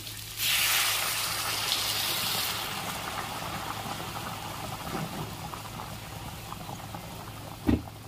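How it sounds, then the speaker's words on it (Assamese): Water poured into a hot pan of frying fish and red pumpkin curry gives a loud, close hiss and sizzle for about two seconds, then settles into a steadier bubbling simmer, with a sharp clink near the end. "ইয়াতে এতিয়া মই পানী ঢালি দিম"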